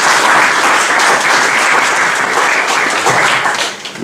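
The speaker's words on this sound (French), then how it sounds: "Applaudissons encore une fois." Loud, sustained applause from a conference audience after a speech on the green and digital economy, a thick, continuous roar of many hands clapping that tapers slightly at the very end with no talking over it.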